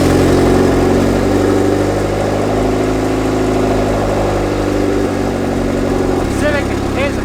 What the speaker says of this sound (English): Civic is running, you can hear it in the back